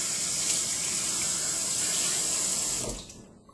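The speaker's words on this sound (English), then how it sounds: "fill it up with water" Tap water runs steadily from a faucet into a hollowed bell pepper in a kitchen sink, a continuous close splashing hiss that cuts off near the end.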